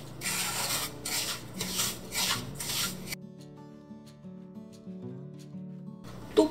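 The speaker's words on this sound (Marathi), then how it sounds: "आता मंद आचेवर आपल्याला हा रवा 5 ते 7 मिनिटं भाजून घ्यायचाय" Semolina roasting in ghee in a pan on low heat is stirred in rhythmic scraping strokes, about five soft rasps, then it stops for quiet background music.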